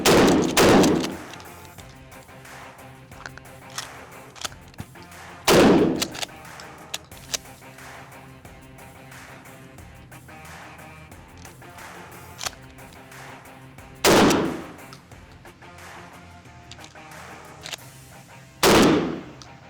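Remington and Mossberg pump-action shotguns fired one at a time outdoors, four loud booming blasts spread several seconds apart with quieter handling noise between.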